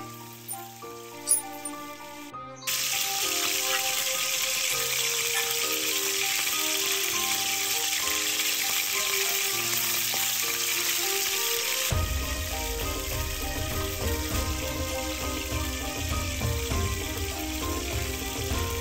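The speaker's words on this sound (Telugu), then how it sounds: "ఇలాగ బాగా ఆయిల్ హీట్ ఎక్కిన తర్వాత ఉండలు చేసుకున్న వాటిని అందులో వేయడమే." Dough balls dropped into well-heated oil, setting off a loud, dense, continuous sizzle after a few quiet clinks, bubbling steadily close up with no talking.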